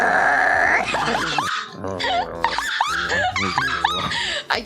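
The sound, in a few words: person imitating a growl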